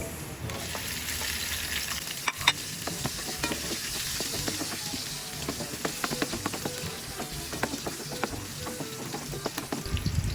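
Onion sautéing in a pan for Filipino dinuguan, a continuous close sizzle broken by frequent scraping stirs and light clicks of the utensil, with no voices.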